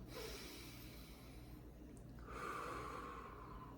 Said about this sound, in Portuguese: a gente parar e respirar, só respirar fundo